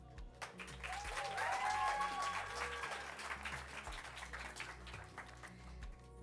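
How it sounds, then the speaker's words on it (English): Applause and cheering from the crowd at a Miss Namibia top 20 reveal event, a faint, distant wash of clapping with some whistles and tonal calls rising early, then settling into a steadier patter. "I'd like everyone to give a warm round of applause and just a shout out to the NBC team"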